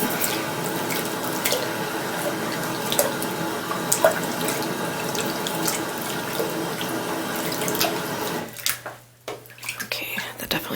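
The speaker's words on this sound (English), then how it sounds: "I'm gonna add a little bit of cold water because it's kind of hot." Tap water pours steadily into a bath for a child, a broad continuous rush that fills the scene, then cuts off near the end, leaving a quieter room with a faint hum.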